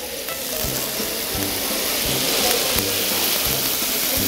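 Fish frying in hot olive oil in a pan, with a loud, steady sizzle and crackle that continues without a break for a few seconds.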